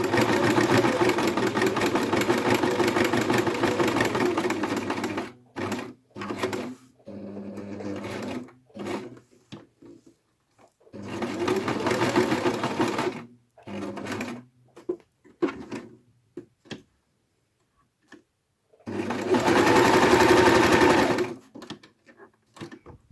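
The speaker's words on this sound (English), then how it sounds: "I'm just starting to sew." A sewing machine runs in several bursts of rapid mechanical stitching, stopping and starting with short quiet gaps between runs.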